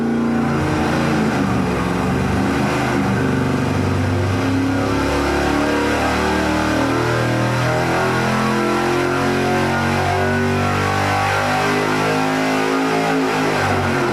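A tunnel-ram engine runs on a dyno, a loud, steady, rumbling drone with a rough, lumpy idle character that holds continuously close by.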